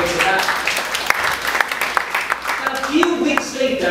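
A church congregation claps in praise during a sermon, with scattered sharp claps under the room's reverberant noise and voices partly over it.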